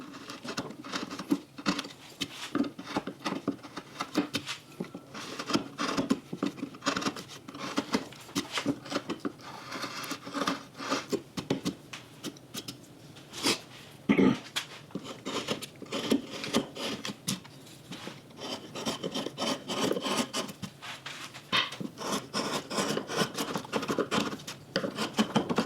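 Hand carving a wooden lakeshore cabin landscape with pine trees, a continuous quiet patter of small scraping and cutting strokes in irregular bursts, close up and without talk.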